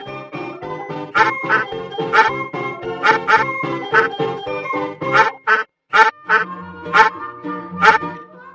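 A duck quacks loudly and close up in a rapid series of harsh, nasal calls, with a brief silent gap near the middle before the quacking resumes.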